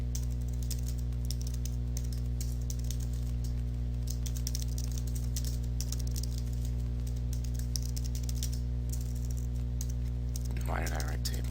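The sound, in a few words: typing on a computer keyboard while coding HTML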